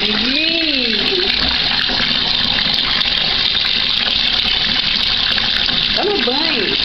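Water gushes and splashes steadily and loudly as a pet named Paco is bathed, with brief warbling, voice-like tones rising over the rush at the start and near the end.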